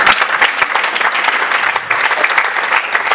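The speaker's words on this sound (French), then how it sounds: "On acclame Jésus pour ça." A church congregation applauds and cheers during a worship service, dense steady clapping and crowd noise filling the space throughout, close and loud with no pauses.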